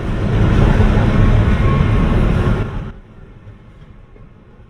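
A loud, steady rumble of a passing train in the Roblox video game fills the first three seconds, then cuts off abruptly to a faint, quiet background.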